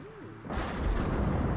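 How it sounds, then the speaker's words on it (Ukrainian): Thunder in the video game The Sims, a deep rumbling boom that swells after a brief quieter moment and rolls on heavily to the end, low and broad. "Боже, там такий грім, блискавки."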